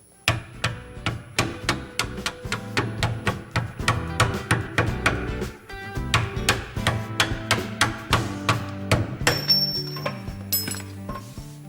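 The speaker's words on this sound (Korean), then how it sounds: "이 홈을 이용해서 망치를 이용해서 쳐주면서 빼주겠습니다" Steel hammer tapping a flat-blade screwdriver to drive out a pillow ball bushing on a Kia Sportage R suspension, heard as a long series of sharp metallic strikes in steady rhythm, close and loud, with a short pause midway.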